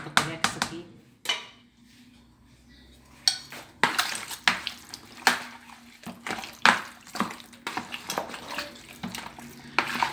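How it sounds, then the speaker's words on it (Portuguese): Chicken being stirred with mayonnaise and seasonings in a dish makes irregular scraping and clinking spoon strokes, close and moderately loud, with short pauses between bursts. "Tem que mexer bem, é pra poder pegar os temperos."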